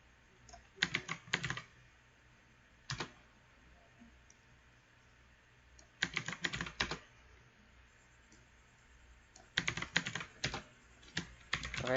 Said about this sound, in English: We need to type again a code.